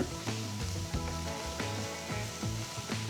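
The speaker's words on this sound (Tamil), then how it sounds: "பச்சை குடமிளகாய் சேர்த்து வதக்குங்க" Steady sizzling of green and red bell peppers frying in a hot pan, with soft rhythmic scraping of a spatula stirring throughout.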